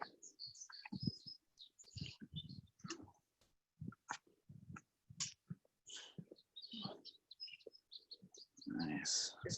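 High chirps and calls from a blackbird ring out in wetlands, scattered short bursts amid rustling and clicks, with people talking nearby.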